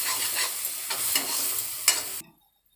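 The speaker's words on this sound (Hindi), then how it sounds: "मसाला पिसा हुआ डाल दिया है, भून रहे हैं इसको, दो से तीन मिनट तक भूनेंगे अच्छे से" Ground masala for a jackfruit curry fries in a pan with a steady, close sizzle, broken by repeated stirring strokes until the sound stops abruptly.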